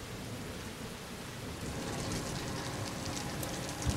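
Video game heavy rain pours steadily with low rumbling thunder beneath it, the downpour growing a bit louder partway through.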